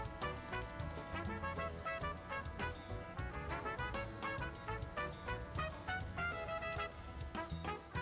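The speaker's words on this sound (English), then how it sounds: "Now it's time to shallow fry these." Chicken shammi kebabs coated in semolina shallow frying in hot oil, a steady dense sizzle and crackle running throughout at close range with no talk.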